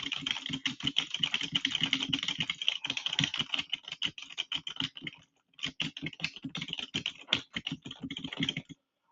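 Code typed on a computer keyboard gives dense, close clicking keystrokes in quick irregular bursts, with a short pause in the middle and no talk.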